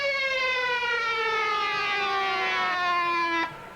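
Wailing sirens from two brand-new St. Thomas police cars rolling in a 1989 Virgin Islands carnival parade, one loud steady harmonic wail that slides slowly down in pitch and then cuts off abruptly near the end.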